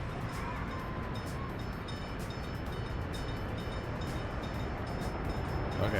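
Train running in the Soviet Republic city-building game Workers & Resources, a steady rumbling rail rolling noise with faint clicks, continuous and moderately loud throughout, no talking.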